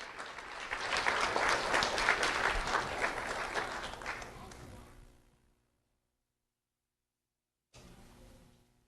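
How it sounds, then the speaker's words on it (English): Audience applause for a student at a Do The Right Thing recognition event, a few seconds of moderately loud, dense clapping that fades to silence, then a short quieter burst resumes near the end. "Let's have a round of applause for Jaden Giesler."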